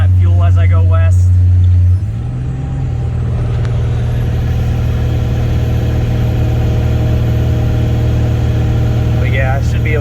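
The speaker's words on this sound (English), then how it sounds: "this thing is just roaring down the road" A heavily loaded hotshot pickup with a boost leak drones down the highway, its engine a loud, steady low roar with deep rumble throughout and a brief shift in pitch early on.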